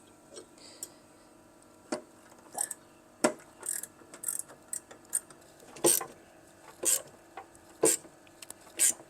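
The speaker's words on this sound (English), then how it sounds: "put a ratchet spanner on" A ratchet spanner clicks on a pipe flaring tool during carburetor work on a 1971 Toyota Celica TA22: irregular sharp ratcheting ticks arrive in short bursts, close and fairly quiet, with no talk.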